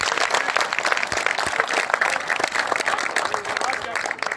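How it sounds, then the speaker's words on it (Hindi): A large crowd applauds to welcome a deputy chief minister at a public reception in a village: continuous, loud, close clapping with mixed voices throughout. "आपने उप मुख्यमंत्री महोदय का तो शानदार तालियों की गड़गड़ाहट से स्वागत"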